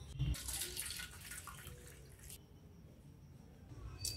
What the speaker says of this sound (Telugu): ఇప్పుడు ఈ బెల్లం నీళ్ళు ఫిల్టర్ చేసుకోవాలి